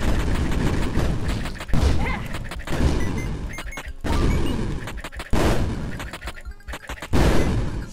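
Explosions and gunfire in the action video game Dead Estate, dense bursts of shots and heavy booms crashing in repeated waves, loud and chaotic throughout.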